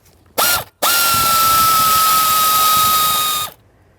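A power ratchet works on a mounting bolt on a Ford Fusion during HVAC blend door actuator replacement, with a short whirring burst, a brief pause, then a longer steady high-pitched whir close by.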